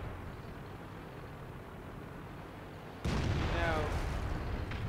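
A single tank cannon shot in a World War II tank battle game, firing at a Panther: a steady low engine rumble, then one sudden loud boom a few seconds in, followed by a rolling echo.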